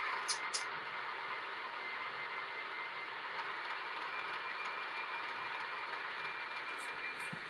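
A model train locomotive numbered 452 runs along its track with a steady, faint mechanical whir and soft continuous rumble, an even hum with a few small clicks near the start and end.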